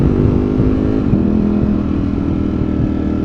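A 2022 Ducati Streetfighter V4S engine rumbles loud and close while riding through New York City, a deep, steady throb with slight shifts in pitch as the throttle varies.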